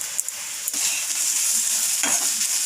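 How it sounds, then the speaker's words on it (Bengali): Onion, chilli and garlic frying gently in a pan, a steady bright sizzle with a few soft scrapes and taps as mashed boiled potato is stirred in, close and even. "পেঁয়াজ আর লঙ্কা রসুন হালকা হালকা করে ভেজে নিচ্ছি"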